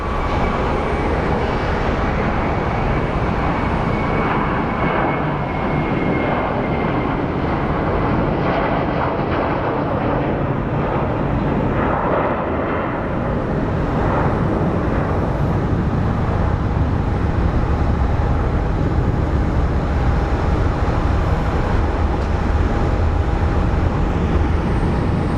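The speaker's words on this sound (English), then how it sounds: "Also, we do have a takeoff." Jet airliner taking off at Phoenix Sky Harbor International Airport, a steady broad engine roar heard from a distance, swelling slightly over time without pause.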